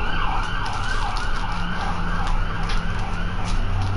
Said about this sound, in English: I know y'all probably hear the ambulance going by my crib